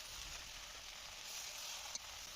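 Potatoes, eggplant, young pumpkin and pointed gourd fry in a pan with a soft, continuous sizzling hiss, steady and faint throughout.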